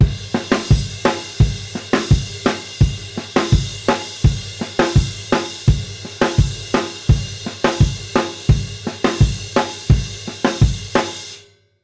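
Rock drum beat with the right hand riding a crash cymbal and accented snare hits from the left hand, loud and steady in a repeating pattern for about twelve seconds, played alone with no talking.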